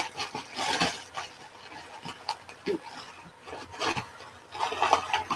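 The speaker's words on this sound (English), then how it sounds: "sorry for the plastic noise." Crinkling and rustling of plastic packaging being handled up close, with irregular crackles and scrapes rising and falling in intensity.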